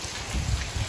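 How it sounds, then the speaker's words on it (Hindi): Steady rain hissing down on a surface, with a soft low rumble beneath, continuous and fairly close. "सो यहाँ पे हो रही है बारिश"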